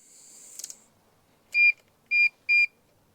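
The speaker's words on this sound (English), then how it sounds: "when there's a connection, it'll beep" Three short, sharp electronic beeps sound in quick succession, preceded by a brief high-pitched hiss and faint clicks.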